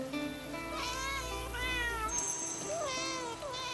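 Several cats in the video game Where Winds Meet meow back and forth in rising, drawn-out calls, clear and close, with no talking.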